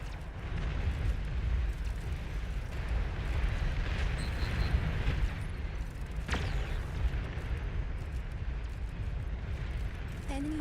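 A commander unit explodes in the real-time strategy game Beyond All Reason, a heavy rumbling blast set in continuous dense battle noise of booms and artillery fire that persists for the whole stretch.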